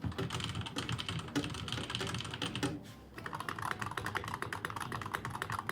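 Fast, close typing on a $100 computer keyboard, crisp key clacks coming in dense bursts with a brief pause midway, no speech.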